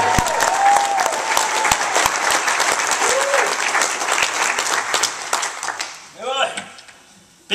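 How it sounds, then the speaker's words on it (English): A gospel concert crowd claps for a singer, loud and dense at first with sharp individual claps standing out, then thinning and fading out near the end as a voice comes in. "If you love him tonight, give him a hand clap."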